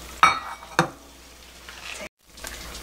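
Metal pot lid lifted off a pot of Korean steamed egg, two sharp clinks close together followed by soft hissing steam and quiet kitchen background.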